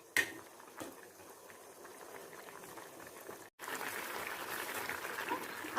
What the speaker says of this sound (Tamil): இது கொஞ்சம் நேரம் கொதிக்கட்டும்